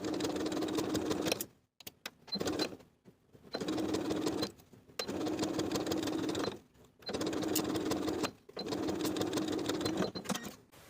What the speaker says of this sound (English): Then I'll sew my cuff in place all the way around with a 3/8 inch seam allowance.